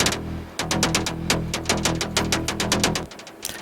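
Single synth lead layer from the Into Dust preset, a wide, full-bodied tone that adds low end, playing a rhythmic sequence of plucked notes, close and clear with no other instruments.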